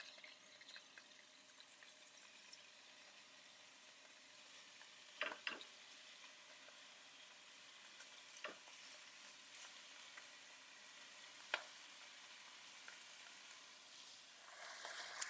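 Beef pieces for stroganoff frying in olive oil in a pan make a faint, steady sizzle, broken by a few brief scraping clatters of stirring.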